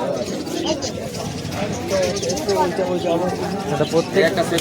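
Pigeons coo softly at the busy Sarenga pigeon market in Howrah, their low calls running beneath steady human chatter nearby.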